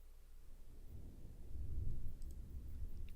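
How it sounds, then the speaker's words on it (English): Low, rumbling thunder from a storm moving through outside, a faint continuous roll that swells midway and then eases, heard indoors with no talk. "Probably just heard the thunder outside. Got a thunderstorm moving through my area right now."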